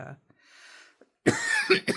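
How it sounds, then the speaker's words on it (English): A sick person lets out a few sharp, close coughs after a brief quiet stretch, harsh and breathy, ending in a final throaty cough. "trying to get over this cough"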